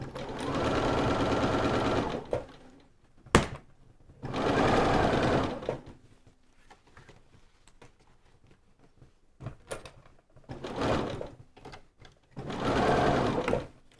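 A home sewing machine runs in several steady bursts of stitching, with quiet gaps between them, while fabric held by wonder clips instead of pins is sewn along a dessert-themed quilt project; close and fairly loud.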